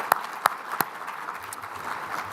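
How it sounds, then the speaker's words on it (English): An audience at a formal event applauds sponsors, a few sharp distinct claps followed by a short patter of lighter, scattered clapping that fades quickly. "Round of applause for our sponsors."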